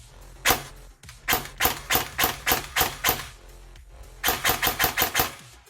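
LCT HK33 A2 airsoft rifle with a brushless motor firing short bursts of rapid mechanical clacks, loud and close with a rattly spring, in two groups of about eight shots separated by a brief pause.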